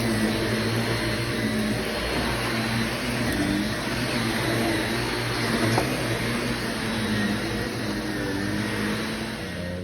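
A carpet cleaning machine sucks dirt from carpet during pet urine odor removal, producing a loud, continuous motor roar with a raspy airflow whoosh that holds steady throughout, close by and without speech.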